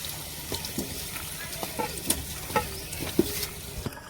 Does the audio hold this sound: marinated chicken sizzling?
yes